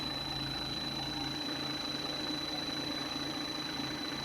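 A CRP870 common rail pump tester runs a steady duty-cycle test on a high-pressure pump, giving a continuous mechanical hum and drone with a sharp high whine held throughout.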